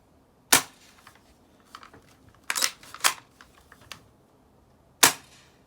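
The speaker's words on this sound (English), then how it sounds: "And this gun is so right on the money when you're shooting it." An EKAF Whizbang 2000 gun fires several sharp, loud shots at uneven intervals, with fainter clicks and handling noises between them and no talking.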